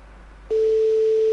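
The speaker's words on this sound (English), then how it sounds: "we should have a sine wave mixed with a noise" A sine wave mixed with noise, generated in Python: after half a second of faint hiss, a loud, steady pure tone starts abruptly with broadband noise beneath it and holds to the end.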